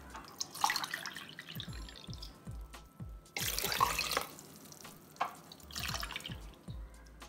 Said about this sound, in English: now I will add water.